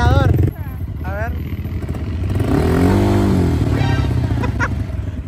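A motorbike engine revving as the throttle is pressed, a loud close motor drone that climbs and wavers in pitch, under overlapping excited talk from people on the bike.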